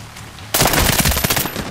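Automatic gunfire in the PC shooter Medal of Honor: Warfighter, a loud sustained burst of rapid shots that starts abruptly after a quiet moment and rattles on without pause to the end.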